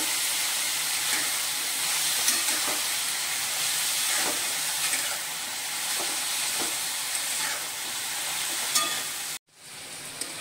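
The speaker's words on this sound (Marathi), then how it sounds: "त्याच्यामध्ये आपण टाकूया थोडीशी हळद, तेलामध्ये आपण 1 मिनिट परतून घेऊया।" Bottle gourd sizzles and fries in oil with turmeric, giving a continuous hiss with occasional stirring clicks until it cuts off abruptly near the end.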